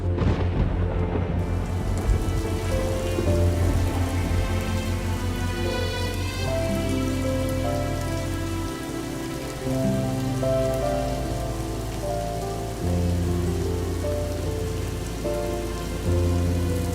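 Steady rain pours down on surfaces, with a dense hiss and patter and a low rumble beneath, loud and continuous with no voices.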